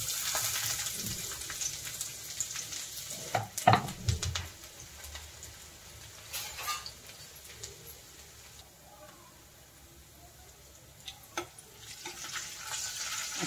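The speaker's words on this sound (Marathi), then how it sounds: "आता लसूण छान असा परतून झालाय" Garlic frying in oil with asafoetida for a radish-leaf vegetable dish, a faint, low sizzle with occasional spoon scrapes and stirring clinks, a few birds calling in the background.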